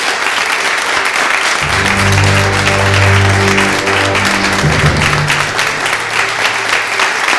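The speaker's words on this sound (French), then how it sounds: "sous vos applaudissements" A studio audience applauds loudly and continuously to welcome guest Lionel Bilgo on a talk show set, a dense wash of clapping under a sustained low musical tone.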